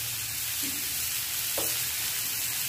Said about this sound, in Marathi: आपला कांदा चांगला भाजला जातोय